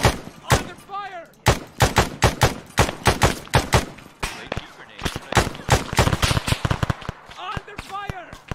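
Arma 3 combat gunfire: dense, loud rifle shots crack in quick irregular bursts and volleys, near and echoing, with voices talking between and over the shots.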